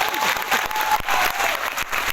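An audience bursts into brisk, dense clapping at a motivational talk, a continuous wash of applause from many hands with no voice standing out.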